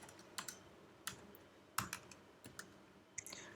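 Keys on a computer keyboard are tapped in sparse, irregular clicks while Python code is written, quiet and close in an otherwise still room.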